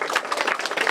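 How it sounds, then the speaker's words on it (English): An audience claps together at an art exhibition's opening reception, a fairly faint, dense patter of hands without voices. "a great big round of applause for it"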